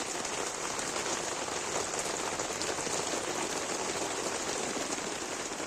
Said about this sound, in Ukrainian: Музика, музика, дощу.